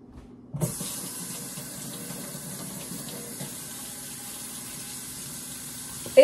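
Kitchen tap turned on to rinse raw chicken legs in the sink, a steady close hiss of running water after a brief thump, ending in a small clatter.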